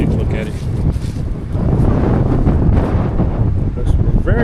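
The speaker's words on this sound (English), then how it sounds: "Wind is so strong," Strong wind gusts buffet the microphone outdoors on a lawn at grass-cutting time, a loud, constant rushing roar that swells after the first second and stays heavy throughout.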